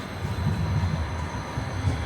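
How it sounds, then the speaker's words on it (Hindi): A New Jersey light rail train passes nearby, a steady low rumble of wheels and rolling cars with a faint high whine above, continuous throughout without voices. "क्या ये देखो लाइट रेल देख लो"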